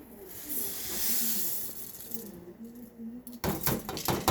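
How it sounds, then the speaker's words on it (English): Dry couscous grains rattle and hiss as they are poured into a metal pot, a steady granular patter followed by a few louder clinks and scrapes near the end. "this recipe calls for 1 cup of couscous, which I'm going to drop in here."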